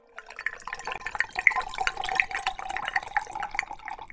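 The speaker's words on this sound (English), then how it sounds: "let's go ahead and get an ear for that characteristic gurgling sound" Wine poured into a medieval glass flask, giving a steady run of close, bubbly gurgles and drips that continues for about four seconds with no talking.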